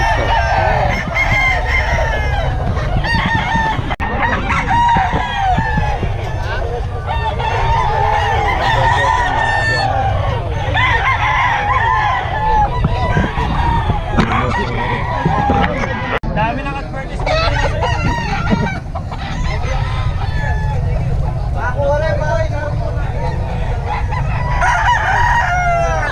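A stag, a young white-feathered gamecock rooster, crows and clucks among other fowl, with continuous loud crowing and clucking over a busy background and voices talking nearby.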